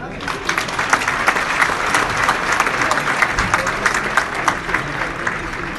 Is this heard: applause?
yes